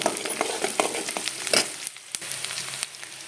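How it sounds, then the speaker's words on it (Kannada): Onions frying in hot oil with popping mustard seeds and cumin for a dhaba-style peas curry, a steady close sizzle with frequent sharp crackles and spits. "ಉಳ್ಳಾಗಡ್ಡಿ ಒಂದು ಸ್ವಲ್ಪ ಫ್ರೈ ಆಗಲಿವ"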